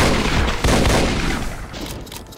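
Sustained in-game weapon fire from Doom's Plutonia, blasted blindly toward an unseen enemy; dense, loud, continuous rapid shooting with a heavy low thump near the start, fading slightly toward the end, with no talking.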